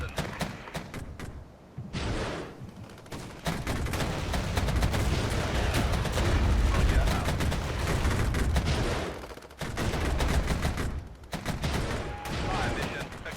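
Rapid bursts of gunfire and heavy artillery thuds in the Regiments war game, dense overlapping volleys that rumble and crack almost continuously, with a couple of brief lulls.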